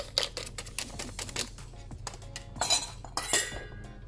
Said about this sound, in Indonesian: Kita aduk ke tepung.